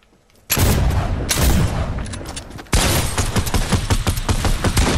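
Rapid automatic gunfire from a new weapon in Fortnite, loud and close, starting abruptly after a brief quiet moment, cutting out briefly near the middle, then resuming as a dense sustained burst.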